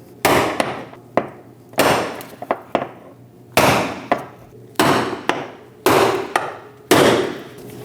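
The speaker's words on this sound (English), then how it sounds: "We're going to use a brass punch to make no sparks. Hit it in the clockwise direction." A brass punch is hammered around a fuel pump lock ring on a 2011 Dodge Durango 5.7L V8 fuel tank, about eight sharp metallic strikes spaced unevenly, each ringing briefly, close and loud with no talk.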